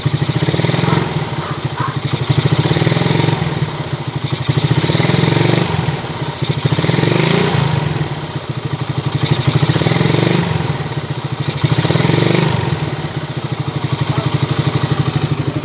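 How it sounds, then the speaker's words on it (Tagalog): A Suzuki Raider 150 motorcycle idling close up with a bearing knock, its engine running steadily with a rough, clattering pulse that rises and falls in a slow cycle. "Ayun yung problema nito, makalugkog, bearing or kanyang balancer bearing."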